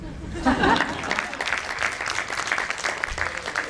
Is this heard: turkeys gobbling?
no